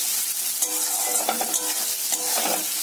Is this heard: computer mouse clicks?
no